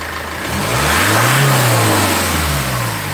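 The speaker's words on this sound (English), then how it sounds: "Let's see what happens if I rev it up." A car engine with an EGR fault (code P0405) revs up from idle, rising to a steady loud roar and easing slightly, close up with no talking.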